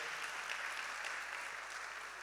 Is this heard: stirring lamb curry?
no